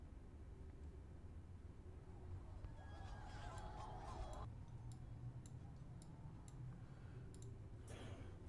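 A recorded horse neigh plays faintly during a tabletop game session, a short whinny burst heard alongside scattered ticking clicks over a quiet room hum.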